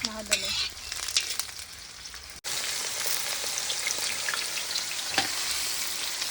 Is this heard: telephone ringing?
no